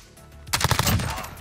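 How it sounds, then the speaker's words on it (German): Burst of gunfire in the Warzone video game erupts after a quiet lead-in, rapid close shots hammering loudly in a dense cluster with no voices over it. "Ich werde beschossen."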